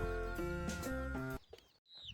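Free-range village hens on a poultry farm in Maharashtra give a sustained, tonal drawn-out call close by, followed by quieter scattered clucks and a short chirp.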